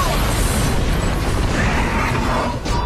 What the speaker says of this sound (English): Your tower has been destroyed.